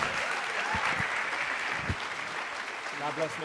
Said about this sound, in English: Give me a round of applause, Mr. London Brown.